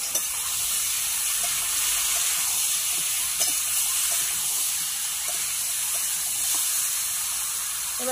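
Pumpkin stalks sautéing in a pan for a Bengali fish curry, giving a steady, close hiss and sizzle that holds evenly throughout with a few faint clicks of stirring.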